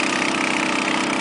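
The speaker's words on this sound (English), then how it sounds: "We only got 2 pumps running on this AquaDam." Two engine-driven water pumps run steadily while filling an 8-foot-tall AquaDam in the Owens River Valley near Bishop, California, giving a loud, continuous, close mechanical drone with no pauses.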